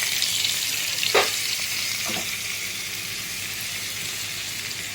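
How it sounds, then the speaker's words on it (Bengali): Garlic and chili frying in a pan of oil with butter, a steady close hiss of sizzling with a couple of brief stirring scrapes. "মিক্স হার্ব রাইস করার জন্য প্রথমে আমি রসুন আর লঙ্কা তেলে দিয়ে নিলাম।"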